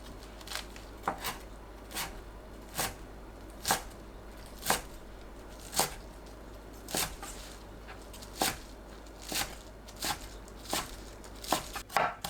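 A kitchen knife chopping vegetables on a cutting board for a Korean pickle recipe, with single, evenly spaced thuds about once a second and a quick double tap near the end, close and quiet.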